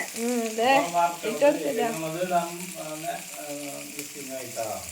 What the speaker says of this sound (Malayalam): നമ്മുടെ മീനൊക്കെ അടിപൊളിയായി മൊരിഞ്ഞോണ്ടിരിക്കുകയാണ്